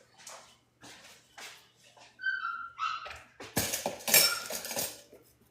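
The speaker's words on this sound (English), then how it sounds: "My doggy is not happy tonight" A pet dog lets out thin, high whimpers and yips in a kitchen during buttercream baking, mixed with sharp clinks of utensils and dishes close by.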